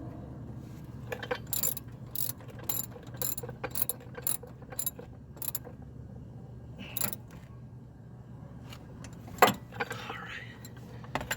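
A ratchet clicks in short repeated bursts while tightening the battery terminal connection on a 2007-2014 Dodge Avenger, close and fairly quiet, with pauses between strokes and a low hum underneath.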